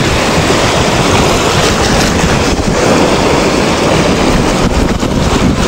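Sea waves at a beach on San Juan night make a loud, continuous broadband rush and roar, with heavy wind buffeting across the microphone and no talk.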